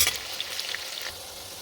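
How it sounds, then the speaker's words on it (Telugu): Onions frying in a pan for vegetable kurma until light brown, giving a soft, steady sizzle with a few faint stirring clicks; quiet and close, with no talking. "కొద్దిగా ఆనియన్, ఇది కొంచెం బ్రౌనిష్గా వచ్చే వరకు వేయించుకోవాలి."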